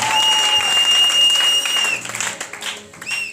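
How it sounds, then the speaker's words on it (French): Congregation in a French-speaking church applauding and acclaiming the Holy Spirit, loud sustained clapping with a shrill whistle-like tone over it, then tapering into scattered claps and voices. "Est-ce qu'on peut acclamer le Saint-Esprit?"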